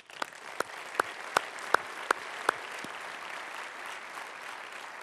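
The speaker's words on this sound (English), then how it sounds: "join me in a round of applause for this group" Audience applause at a professional association's conference opening in Boston, a broad steady wash of many hands from a crowd, with a few sharper nearby claps standing out at a regular pace early on.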